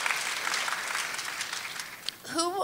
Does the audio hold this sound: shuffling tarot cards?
no